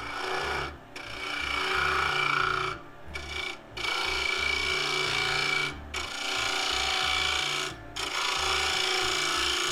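A wood-turning tool cuts into a spinning claret ash bowl with wild grain and knot inclusions, giving a steady, close rasping scrape broken by several brief pauses, with no talk.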